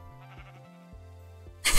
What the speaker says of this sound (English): I hear another sheep.